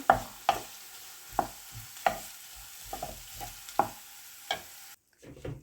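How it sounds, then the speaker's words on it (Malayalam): Curry leaves, green chillies and dried red chillies fry in a pan for cabbage carrot thoran, with regular spatula scrapes and taps over a soft sizzle before a sudden cutoff. "ഇനി ഇതിലേക്ക് കറിവേപ്പിലയും പച്ചമുളകും ഉണക്കമുളകും കൂടെ നമുക്ക് ഇട്ട് കൊടുക്കാം. ഇത് ഇളക്കി കൊടുക്കാം."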